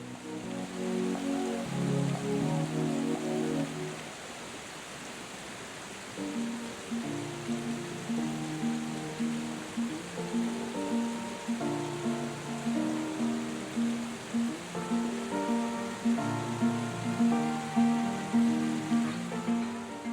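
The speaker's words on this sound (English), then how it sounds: "There's just something about waterfalls." Athabasca Falls in Jasper National Park sends up a steady rushing roar of falling water, faint and continuous, with a low tonal drone running underneath.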